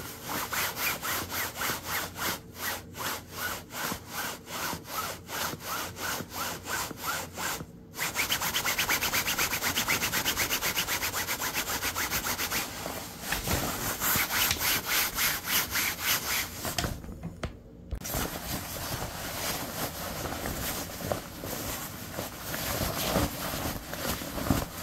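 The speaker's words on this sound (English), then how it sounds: "These are bar none the loudest pants I own. It's like walking around in corduroy pants." Water-resistant Reindee Lusion tapered pants rustle loudly as the legs brush together while walking, a rhythmic swishing, rasping scrape repeating at a steady pace, close and alone.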